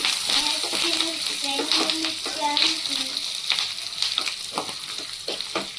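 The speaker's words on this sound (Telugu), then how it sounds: "తర్వాత కరివేపాకు వేసేసి ఇలా తిప్పేస్తే కరివేపాకు కూడా మంచిగా వేగిపోతుంది" Curry leaves crackle and sizzle in hot tempering oil for palak dal, a steady frying hiss with scraping stirs and small clicks of a spoon against the pan, faint voices in the background.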